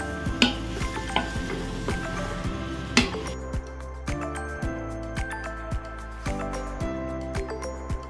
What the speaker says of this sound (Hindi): गाजर को थोड़ा घी में भून लेंगे।